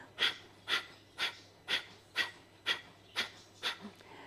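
Breath of fire yoga breathing, with eight sharp, evenly spaced exhalations forced out through both nostrils at about two per second, close and fairly quiet.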